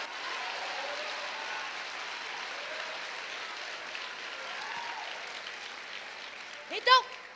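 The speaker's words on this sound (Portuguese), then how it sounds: "Se é para aplaudir, aplaude sem preguiça, com vontade, todo mundo junto." A church congregation applauds together during a sermon, a steady, moderately distant wash of clapping that holds for several seconds before a brief louder burst near the end.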